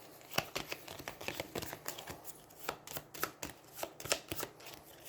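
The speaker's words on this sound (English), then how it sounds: "And then we need to shuffle." Cards for the Aeons End board game being shuffled by hand in a solo play session, a quick run of soft papery slaps and flicks in an irregular rhythm, close and fairly quiet, with no talk.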